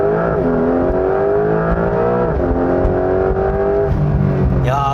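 A Porsche 911 GTS in Sport Plus mode, with its rear engine and sport exhaust open, accelerates hard through the gears. The loud, close engine note climbs in pitch, drops at each shift, then climbs again.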